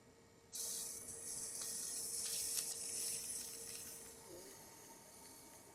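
Water gushing from a leaky hose into a tank being flushed, starting abruptly and running as a steady hissing rush that eases slightly toward the end, with no talking.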